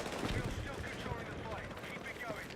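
DMR rifle gunshots in Battlefield 6: rapid, overlapping cracks and bursts of fire in a busy, noisy battle mix, steady and moderately loud for the whole stretch.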